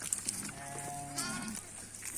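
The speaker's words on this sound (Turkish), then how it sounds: "Bak bu da benim kuzum" A lamb gives one short, wavering bleat near the middle, fairly soft, with light background noise around it.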